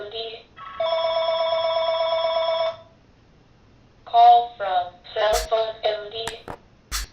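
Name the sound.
telephone ringing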